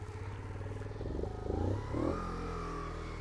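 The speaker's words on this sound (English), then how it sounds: "you can go old school and just give it a nice little kick" A Daytona Hobby 50cc motorcycle kick-started, its small engine chugging in a fast steady putter, then rising in a couple of short revs before settling to a loud close idle.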